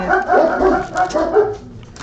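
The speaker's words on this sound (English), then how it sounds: "Dogs go crazy." Several dogs bark excitedly indoors at an Amazon Prime delivery, a loud, close run of overlapping barks and yips that fades slightly toward the end.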